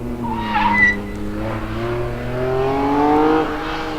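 A BMW rally car on rally tyres revs its engine on a test day with a sticking throttle, the rising and falling engine drone close and loud, a throaty rev peaking midway and swelling again near the end.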